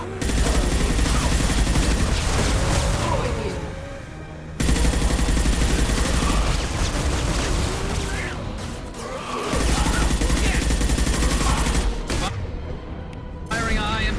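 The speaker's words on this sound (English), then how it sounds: "Firing a high-impact shot." Bursts of sci-fi gunfire from Mass Effect 2 combat, loud rapid volleys in several long stretches separated by brief pauses, with a voice speaking over the shooting.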